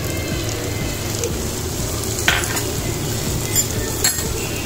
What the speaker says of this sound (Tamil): மல்லிக்கீரை தூவி கிண்டி விட்டுருவோம்